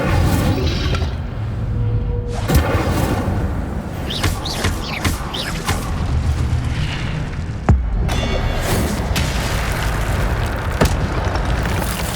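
Incendio fire spell cast in the video game Hogwarts Legacy, heard as several booming bursts and sharp pops over a dense, continuous bed of game ambience.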